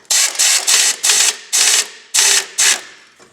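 A lug bolt on a stuck 8-lug truck wheel is loosened with seven loud, close bursts of mechanical rattling. Each burst lasts about a quarter second, with short pauses between them.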